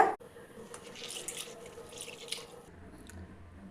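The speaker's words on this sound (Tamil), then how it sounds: "இந்த அரிசியை நல்லா தண்ணியில் போட்டு வாஷ் பண்ணி எடுத்துக்கோங்க" Rice being washed in water in a home kitchen while preparing chicken biryani: steady running-water and sloshing sounds with light drips, close by and fairly quiet, with no talking.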